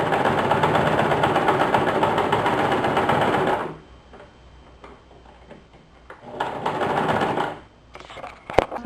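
A sewing machine stitching a buttonhole-style finishing edge on a warm fleece shoe runs in a fast, close, steady whir, stops for a quiet gap, then starts again in a shorter burst followed by a few sharp clicks.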